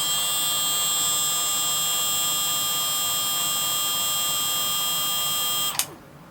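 A Milwaukee M12 FUEL 1/4 inch right angle die grinder runs at a steady high-pitched whine and buzz close by, then winds down abruptly near the end with a brief clunk.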